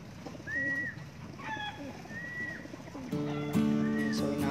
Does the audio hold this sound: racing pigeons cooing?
yes